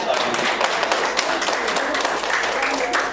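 A group of people clap their hands at a positive-culture presentation for prospective teacher leaders, a steady dense patter of claps under a loud voice that talks throughout.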